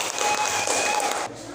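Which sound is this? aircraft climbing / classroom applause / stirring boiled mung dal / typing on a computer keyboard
classroom applause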